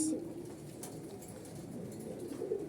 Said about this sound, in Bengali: আমাদের প্রায় একশো জোড়া প্লাস কবুতর আছে একশো জোড়া প্লাস সব আমাদের কিন্তু খাঁচায়